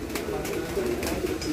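Racing pigeons coo in a loft in Pampanga, a low throaty burbling that repeats steadily and sounds close, with a voice faintly underneath.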